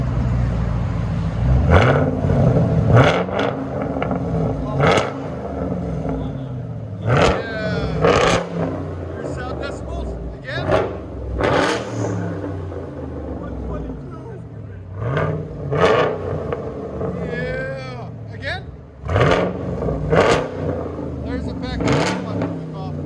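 A car exhaust fitted with an X-pipe revs hard again and again, each burst rising into a deep, raspy roar and falling back, with voices talking between the revs.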